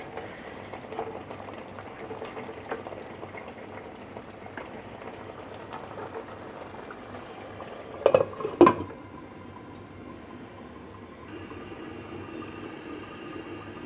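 A covered pan of Katla fish dopiaza simmers with a soft, steady bubbling hiss, broken by two brief clanks around the middle.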